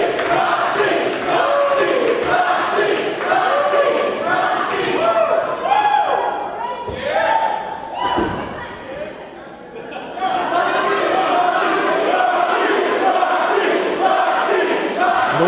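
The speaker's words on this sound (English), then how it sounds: "Micah Madrid and the Diamonds champion Roxy, as you hear the crowd chant her name." Wrestling arena crowd at a lucha libre show in Texas City chanting a wrestler's name after the opening bell, a loud, sustained mass of voices with rhythmic swells and a brief dip midway.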